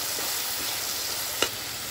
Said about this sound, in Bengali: পেস্টটা দিয়ে তেলের সাথে সমস্ত মশলা ভালো করে কষিয়ে নিচ্ছি